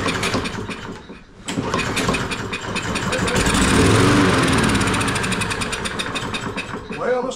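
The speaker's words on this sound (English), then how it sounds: "now we'll pull it and see if it cranks and dies" A small lawn equipment engine, primed with fuel through the choke, is pull-started: a brief rope pull, then the engine catches and roars loudly for several seconds before fading and dying out near the end.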